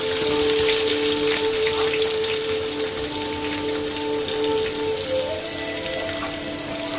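Onions sizzling in a pan with chicken parts for a Palakkad-style dry chicken roast, a steady hissing wash with a sustained tonal hum running underneath, loud and close throughout without talk.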